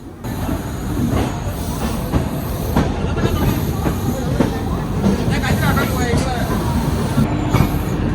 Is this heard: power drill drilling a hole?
no